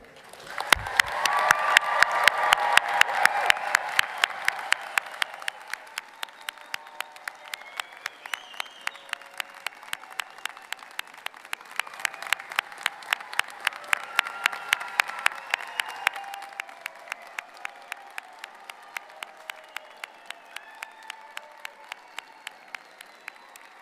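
Graduates of the class of 2022 are applauded at a law school commencement, a long, even stretch of crowd clapping with a few faint cheers, swelling in places and fading out at the end.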